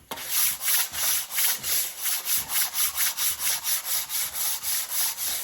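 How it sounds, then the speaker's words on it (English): Steady back-and-forth rubbing of fine sandpaper wrapped on a wooden block across the cylinder head of a Massey 35 tractor's Continental Z134 engine, about three even strokes per second, close and clear. "We're gonna use a block of wood, and it's fairly fine sandpaper."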